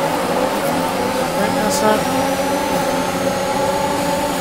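Formula 1 cars roar off the start at Silverstone in the F1 2021 video game, a dense continuous engine drone throughout with a voice talking over it.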